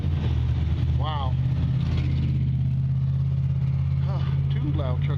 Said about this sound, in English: Two loud trucks behind me.